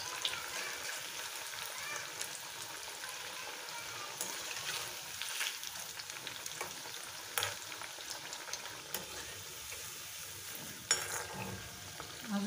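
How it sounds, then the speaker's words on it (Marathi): Methi muthiya dumplings frying in oil over a low gas flame, a steady close sizzle and crackle with occasional sharper pops and spatters running throughout. "बारीक गॅसवर खरपूस भाज तळून घ्यायचे"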